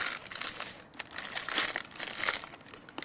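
Sheets of parchment wrapping paper crumpled and crinkled by hand up close, a continuous rustling crackle with brief pauses, no voices.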